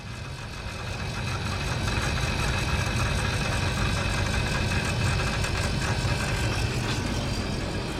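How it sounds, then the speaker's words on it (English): FASS 165 fuel lift pump running on an LML Duramax truck, a steady dense mechanical whir and buzz that holds constant for several seconds close by, with no talking. "this is how loud the pump is when it's running"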